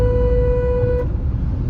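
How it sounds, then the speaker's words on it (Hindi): A single sustained car horn blares loudly for about a second, then cuts off, leaving low rumbling traffic noise. "हॉर्न मार दे इसको।"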